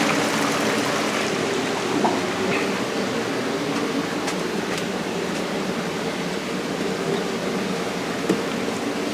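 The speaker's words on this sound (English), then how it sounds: "the water flowing here. Fish tank." Water flows into an aquaponics fish tank in a greenhouse in a steady, rushing trickle, close and continuous, with faint mechanical hum and a few small clicks underneath.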